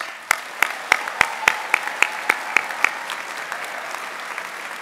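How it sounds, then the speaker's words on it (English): Clapping from a small crowd at a high school senior assembly, with sharp individual claps landing in a fairly even rhythm before settling into a softer, continuous patter. "you deserve every round of applause that you get"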